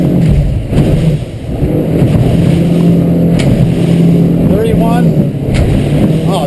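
A 2014 Weldcraft 220 Maverick boat running at about 35 mph, its engine a steady, loud drone with rushing wind and water throughout, while people talk over it.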